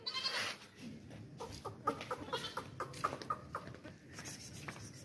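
Cheap dairy goats bleating close by, several short wavering calls in quick succession, with rustling and other farm animal noise in the background.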